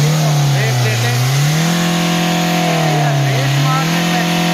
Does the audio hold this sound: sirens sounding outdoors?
no